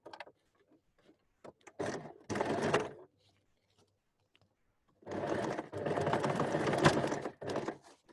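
Sewing machine stitching along elastic on a garment piece, running in two close, loud bursts of rapid needle rattle with soft handling noises and a pause between them.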